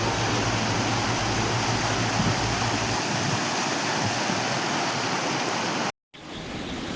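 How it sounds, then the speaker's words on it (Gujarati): Water rushing over an overflowing village dam after rain near Dhoraji makes a loud, steady, close roar. It fills the whole stretch, cutting out for an instant near the end before resuming. "આજે આપણા ગામનો ડેમ ઓવરફ્લો થઈ ગયો ભાઈ."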